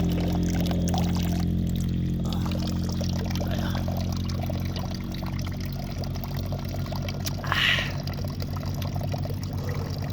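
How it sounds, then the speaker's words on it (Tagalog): Mountain spring water poured into a cup folded from a leaf, a soft continuous trickle and splash under a constant low hum, with a brief brighter splash near the end. "Kumuha tayo ng tubig."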